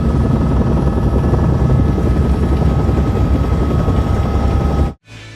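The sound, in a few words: helicopter flying, from HBO's Chernobyl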